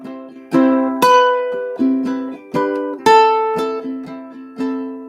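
Ukulele picks a melody with strong plucked notes over softer chord fills. Each note attacks sharply and then decays over a few seconds, and the instrument plays alone with no voice.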